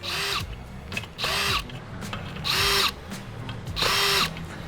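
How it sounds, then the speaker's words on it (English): Power drill on a slow setting, pulsing in four short bursts about a second each with brief pauses between, close by and loud, while building bicycle wheels. "got the drill on the slow setting"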